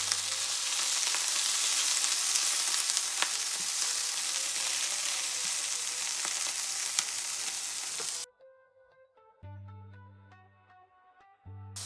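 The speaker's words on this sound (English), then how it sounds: "I put oil in the pan so I can fry it up like that" A bagel frying in oil in a pan gives a steady, loud, close sizzle and crackle for several seconds, then cuts off abruptly, leaving a few quiet clinks and hums.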